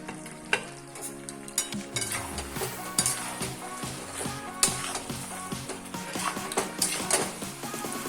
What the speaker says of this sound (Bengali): এবার আমি আর একটু ভালো করে কষে নেব। ভেজে রাখা আলু দেব।